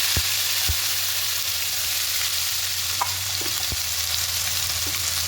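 Ginger-chili paste fries in hot oil with a constant, close sizzle, broken by a few soft knocks of a spoon stirring the pan.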